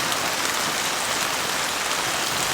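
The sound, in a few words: heavy rain while car and tarp camping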